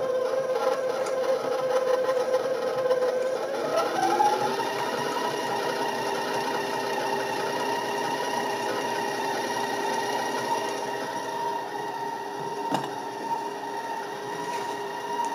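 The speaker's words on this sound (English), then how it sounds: "And we'll get that going on the mixer. And I'm going to add the sugar to that." Electric stand mixer running steadily as sugar is beaten into soft butter for vanilla crinkle cookie dough, a continuous motor whir with a slight pitch shift early on, close and alone with no talking.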